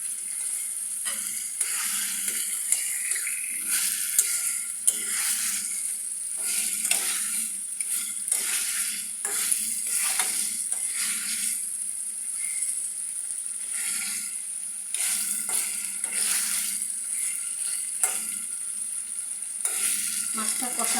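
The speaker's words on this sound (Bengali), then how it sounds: "শিং মাছটা ভালো মতো নেড়ে চেড়ে মশলাটা শিং মাছের গায়ে ভালো মতো লাগিয়ে দিতে হবে। মাছটাকে ভালো মতো কষাতে হবে।" Shing catfish with raw banana sizzles in a pan of spice paste while being stirred and turned, a steady crackling fry with intermittent scraping bursts throughout, no talk.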